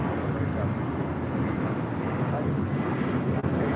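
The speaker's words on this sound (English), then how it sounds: "Looks like the SAS A330 going to be landing here on the south side." An SAS Airbus A330 approaches to land on the south side at LAX, its engines making a steady, broad roar that stays fairly even throughout with wind noise on the microphone and no clear talk.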